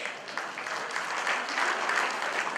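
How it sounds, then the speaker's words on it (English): A crowd at a school reunion in Chicago claps in a steady round of applause, even and continuous, heard on its own without speech. "So please give yourself a round of applause."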